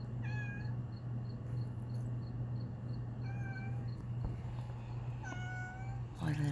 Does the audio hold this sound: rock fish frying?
no